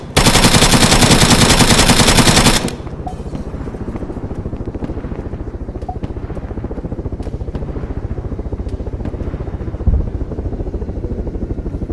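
In the military shooter game Arma 3, a King of the Hill match opens with a loud sustained burst of automatic gunfire. A quieter, rapid rattle of distant firing then continues steadily, with one sharper shot near the end.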